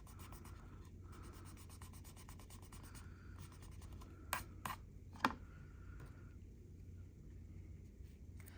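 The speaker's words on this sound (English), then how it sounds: "I'm going to grab an eraser and I'm going to erase my pencil lines." A pencil eraser rubs pencil lines off paper during a Zentangle ink drawing, a quiet close scratchy friction in short repeated strokes with a few sharper taps, no voices.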